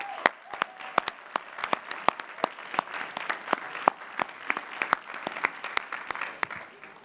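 Audience at the 149th Lehigh University commencement applauds master's degree recipients with a steady patter of many hands, punctuated by distinct close sharp claps throughout.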